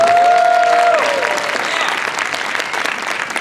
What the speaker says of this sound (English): Let's have a big round of applause for Ashley Lorentzen.